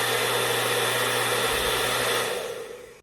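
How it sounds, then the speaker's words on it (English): A salon-style hair dryer runs alone with a steady, loud rushing whoosh and a low motor hum, then winds down and fades toward the end. "Let's do the sound test."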